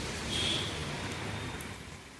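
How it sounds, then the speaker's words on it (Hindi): Heavy rain pours down steadily, a dense continuous hiss with scattered drops hitting surfaces nearby and faint low rumbling underneath, with no voices. "अरे देखो बारिश आ रही है अभी,"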